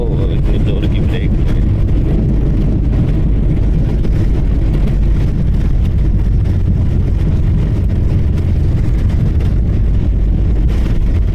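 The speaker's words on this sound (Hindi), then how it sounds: "अभी हम लैंडिंग कर गए। ओह इतनी जोर की ब्रेक।" A loud, steady airliner cabin roar with deep rumble as a plane lands and brakes hard on the runway, sustained throughout with heavy low-end noise; a voice speaks over it.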